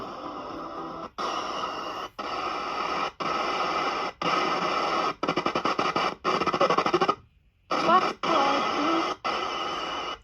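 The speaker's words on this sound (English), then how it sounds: "get the box to step and introduce a little bit of white noise" Choppy spirit box radio static sweeping in short bursts, cutting on and off every second or so with brief silent gaps, loud and harsh.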